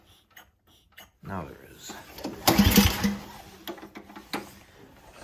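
Pull-start attempt on a snowblower with an LCT engine: a loud burst of mechanical cranking and engine rattle rises midway, then fades to scattered clatter, with someone talking briefly before it.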